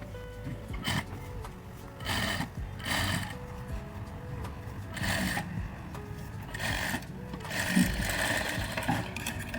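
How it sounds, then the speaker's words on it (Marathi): A sewing machine stitches a katori blouse in short separate bursts of whirring, several runs starting and stopping over about ten seconds, close and moderately loud with quiet gaps between them. "आणि सेंटरला शिलाई मारायची याच्या"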